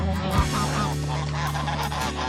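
Geese honk loudly and repeatedly at close range while confronting a hen at night in a flock setting, their harsh calls overlapping in a steady barrage.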